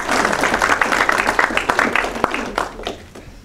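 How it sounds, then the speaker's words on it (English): Audience applause for a speaker at a marketing talk, a brief burst of clapping from a room of people, loud at first and then fading over a few seconds. "let's give an applause to Ambal."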